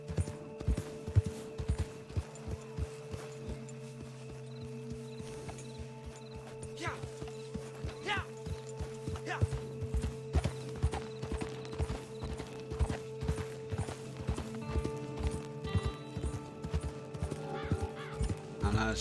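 Horse hooves clip-clop steadily in a PC racing-horse video game, a dense, regular patter running throughout with a faint whinny and game ambience beneath, while someone talks over it at times.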